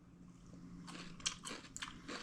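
Someone takes a taste of cooked spicy salmon, made as the filling for a spicy salmon roll, giving a few soft, close, wet chewing and crunching bites over quiet room tone.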